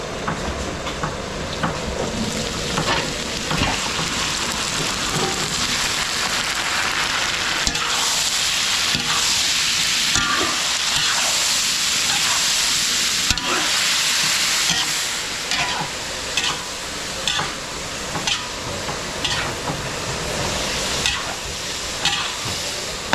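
Garlic and onion fry in a pan with pork, giving a loud, continuous sizzle over about twenty seconds, with stirring scrapes and clinks breaking through now and then.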